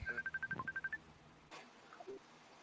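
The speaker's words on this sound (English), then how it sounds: "Someone's phone calling?" A phone gives a rapid string of short, evenly spaced electronic beeps that ends after about a second, followed by faint, quiet background noise.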